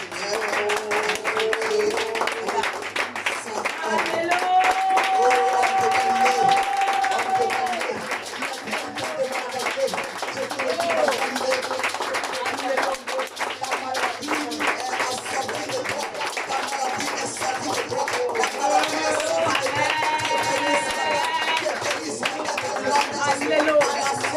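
A French-speaking church congregation claps in acclamation during a service, sustained loud applause mixed with voices and cheering throughout.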